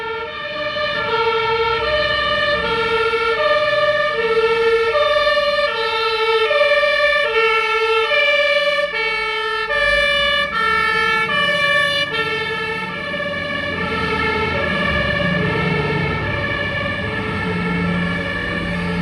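A fire brigade engine's siren wails loudly along a street in Södermalm, Stockholm, a continuous cycling multi-tone alarm that stays prominent throughout, with a faint rumble of traffic underneath.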